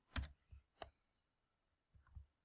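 Keyboard keys pressed for a Control-V paste shortcut, a few sharp clicks in quick succession followed by a pause and two softer taps, close and quiet with no talking.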